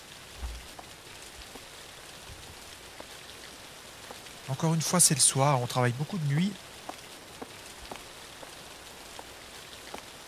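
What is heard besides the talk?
heavy rain in a video game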